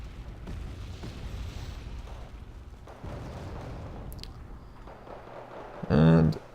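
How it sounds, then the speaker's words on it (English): Mortar shells exploding in a real-time strategy video game, rumbling low blasts with a sharp, louder burst near the end, heard under a faint battle din. "and then here come the mortars"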